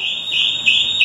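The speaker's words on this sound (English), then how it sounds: "The smoke alarm's going off because there is so much smoke through the house." A household smoke alarm sounds a steady, piercing high electronic tone, set off by heavy kitchen smoke filling the house. The tone is loud and close and continues unbroken.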